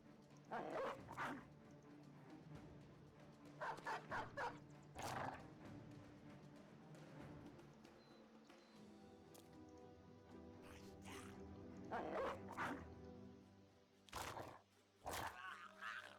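A war dog in Battle Brothers barks and yips in scattered bursts across a battle, some loud and close, others spaced apart over a low background murmur.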